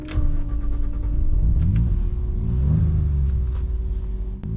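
1990 Ford Sierra 4x4 (Merkur XR4ti) engine idling, a deep full-bodied rumble heard close up with slight fluctuations in pitch and a steady hum over a few seconds, no talking.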